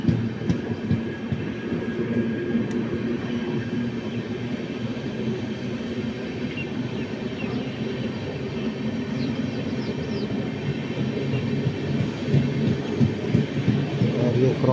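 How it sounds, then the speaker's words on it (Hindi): The Kalka Express passes through a station on Indian Railway, giving a continuous low rumble with rhythmic clatter of wagons over the rails that stays steady throughout and has no voices over it. "कालका एक्सप्रेस पार कर रही है और स्टेशन कोडरम से स्टेशन को क्रॉस कर रही है ट्रेन"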